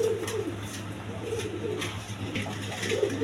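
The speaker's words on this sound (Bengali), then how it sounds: "এখানে 1 পেয়ার মসলদম কবুতর আছে" A pair of Mosaldam pigeons coo softly over a steady low hum, the murmuring calls repeating in short bursts against a noisy backdrop.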